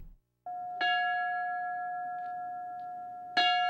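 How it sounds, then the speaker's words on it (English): A single bell is struck twice at a COVID-19 remembrance ceremony at Luzerne County Community College in Nanticoke, each clear strike ringing out and sustaining a long, slowly fading tone in a quiet setting. "A bell was rung this afternoon during a ceremony at Luzerne County Community College in Nanticoke to remember lives lost to COVID-19"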